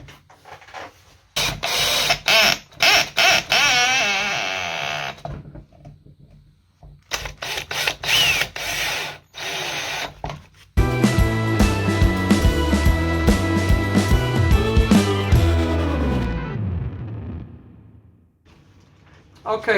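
Screws being driven into an Arrma Vorteks RC car chassis with a power driver, heard as bursts of close mechanical whirring and rattling separated by short pauses, then a longer stretch of steady buzzing.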